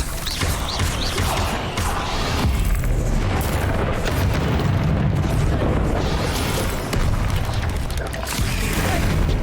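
Confringo blasting spells exploding in Hogwarts Legacy, with a continuous loud barrage of booming blasts and rumbling crashes that barely lets up throughout.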